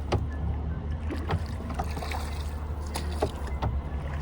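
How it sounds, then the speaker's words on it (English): Oars of a rowboat splash and knock rhythmically against the water of Lake Bled, Slovenia, at a steady pace, with a low rumble of wind and gentle trickling in the background. "I'm rowing us to the island."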